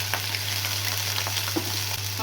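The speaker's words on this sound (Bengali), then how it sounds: "আর ধুয়ে রাখা চিংড়ি মাছগুলো দিয়ে দিলাম।" Washed shrimp crackle in hot oil in a pan, a dense close sizzle with scattered sharp pops over a low steady hum, no one speaking.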